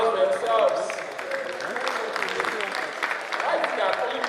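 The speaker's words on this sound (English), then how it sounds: "Please, a round of applause for yourselves" A seated training-session audience claps for several seconds, a steady wash of applause with some overlapping talk and a few brief whoops.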